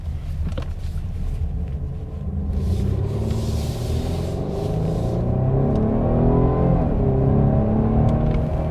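A 2021 Mercedes-Benz E350 with a 4-cylinder engine accelerates in Sport Plus mode, heard from inside as a steady engine rumble whose pitch climbs through the gears over road noise.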